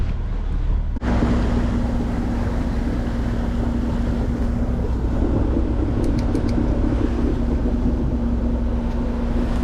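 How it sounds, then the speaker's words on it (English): A sailboat's engine idles steadily with a low, constant drone as the boat motors out of an island anchorage, and wind buffets the microphone throughout. "We have the engine on just in case."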